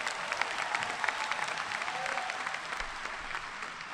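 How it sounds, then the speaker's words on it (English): Audience at a high school commencement applauds steadily for several seconds, a dense, fairly distant wash of clapping from a large crowd. "Give them one more round of applause."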